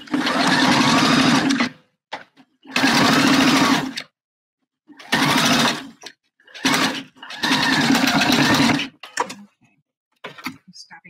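A domestic sewing machine runs in loud bursts while stitching a bra, several long runs of rapid needle chatter separated by pauses, followed by a few short taps and quieter clicks near the end.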